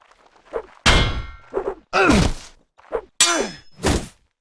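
Two-handed swords clash in a Mount & Blade: Warband medieval battle during a Hundred Years' War themed match: a handful of sharp, ringing metallic clangs and thunks at uneven intervals, some mixed with short grunting combat voices.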